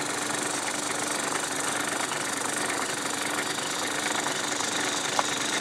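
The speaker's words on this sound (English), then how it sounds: "The Dremel will take down the bulk of it." A Dremel rotary tool grinds down a 3D-printed plastic loco chimney with a steady, close, high-pitched motor whine that holds unbroken throughout, with one small sharp tick near the end.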